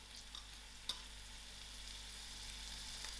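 Ginger garlic and curry leaf frying in hot oil with lightly browned onions for cabbage and gadra, a steady soft sizzle throughout with one brief clink of a spoon near the start.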